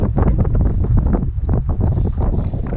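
Strong gusts batter the microphone at Glen Island Park on a very windy day, a loud, continuous roaring buffet with no break in the noise.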